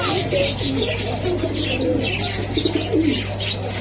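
Racing pigeons coo in repeated low throaty phrases, close and steady, with occasional chirps and a constant low hum underneath; a faint voice may be present.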